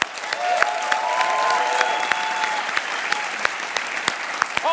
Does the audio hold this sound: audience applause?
yes